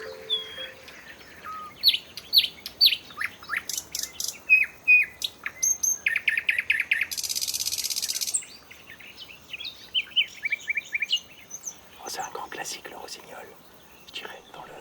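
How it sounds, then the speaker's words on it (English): A nightingale sings in spring outdoors, its varied phrases of rapid chirps, whistles and buzzy trills coming in bursts with short pauses, close and clear over a faint background of other birds and insects. "It's a classic, really, the nightingale."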